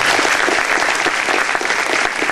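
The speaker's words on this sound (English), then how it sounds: "I know you all want to give them a round of applause." A forum audience at a planetarium claps for the hosting staff: loud, dense, close applause from many hands, sustained throughout without let-up.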